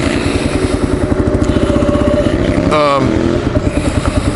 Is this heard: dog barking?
no